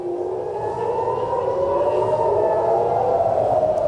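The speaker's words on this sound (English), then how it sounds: "You're hearing the sirens." Air raid sirens sounding across Tel Aviv during a missile attack: a loud, sustained wail slowly shifting in pitch, heard alone without talk.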